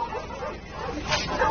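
Dogs at a dog meat farm in Namyangju, South Korea, bark and whimper close by in a short, busy burst, with people talking over them.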